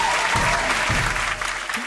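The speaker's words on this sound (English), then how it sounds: "Please give a huge round of applause" An audience at a karate performance claps steadily, dense and continuous applause filling the whole moment, fading slightly toward the end.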